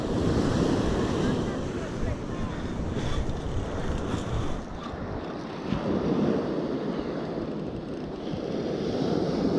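Ocean waves surge onto the shore at Taraji, Fuerteventura, in the Canary Islands during sea fishing, in a loud continuous wash that swells and eases, with wind buffeting the microphone.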